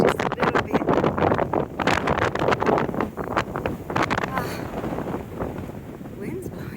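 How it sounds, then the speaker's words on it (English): Outdoor wind on a foggy day on a walking route in Ireland, buffeting the microphone in uneven gusts and rumbles, with people talking through it. "Wind's blowing."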